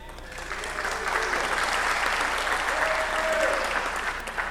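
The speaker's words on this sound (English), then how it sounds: "Round of applause, please." A room full of people gives a sustained round of applause for a presenter at a real estate deal-of-the-month meeting, steady and dense throughout.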